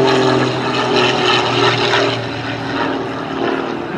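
A Pitts Special aerobatic biplane at an air display at Weston Park roars loudly and steadily close by, its propeller blade tips cracking as they pass the sound barrier, with no voices.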